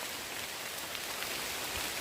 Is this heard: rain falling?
yes